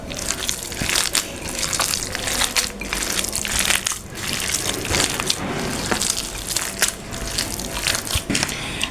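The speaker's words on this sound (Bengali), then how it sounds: "এখন এটা আমি ভালো করে মাখিয়ে নেব।" Wet, squelchy kneading and crushing as chicken momo filling is mixed by hand, irregular close-up squishes and slaps repeating throughout with no talking.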